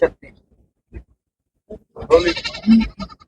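Goats bleat at a crowded goat market in Punjab, first a few short scattered calls, then one loud, drawn-out bleat close by.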